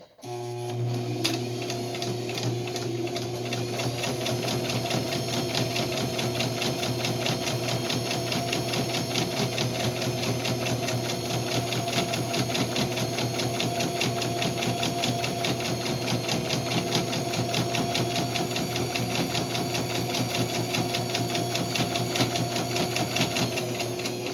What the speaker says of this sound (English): I'm going to get started on sewing.